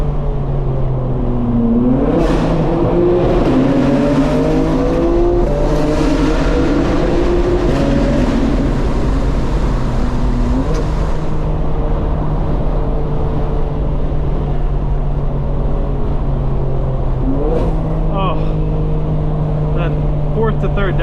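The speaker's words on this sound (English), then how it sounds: "Fourth to third downshift is unreal." A 2025 BMW M4 Competition engine heard from inside the car as it revs through a fourth-to-third downshift, the steady drone climbing and falling in pitch before settling into a sustained cruising hum.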